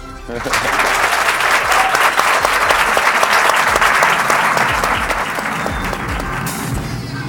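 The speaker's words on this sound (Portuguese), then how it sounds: "Aplausos." A studio audience on a Brazilian TV show bursts into loud applause after a brief quiet start, dense clapping sustained throughout with faint cheering and voices mixed in.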